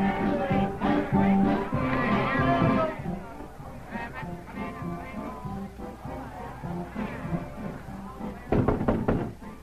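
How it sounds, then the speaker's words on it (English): Knocking on a door in a 1939 film, a few dull thuds near the end of the clip, heard over a murmuring room tone with voices. "Who's this knocking on your door, Miss Marvel?"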